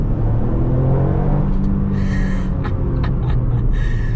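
A Toyota GR Yaris blipping its engine automatically as it shifts into second gear, a loud low engine rumble with a quick rev rise and brief hissing bursts over it.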